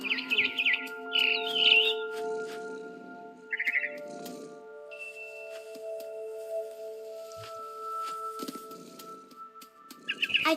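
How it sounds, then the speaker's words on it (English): A barn swallow chirping outside a window in the video game What Remains of Edith Finch, bursts of bright twittering calls over a sustained musical drone, close and clear. "Then I heard chirping outside my window. It was a barn swallow going back to her nest."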